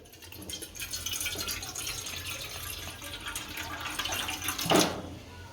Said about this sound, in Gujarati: તો આમાં પાણી નાખશું થોડુંક